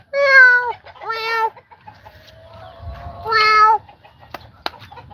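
A cat on a farm gives three loud, drawn-out meows close by, two in quick succession and one after a pause, with faint rustling and a couple of sharp knocks in between.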